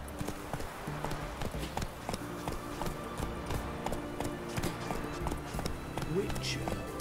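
A horse gallops in The Witcher 3: Wild Hunt, hooves clip-clopping in a steady fast rhythm under continuous talk and game ambience.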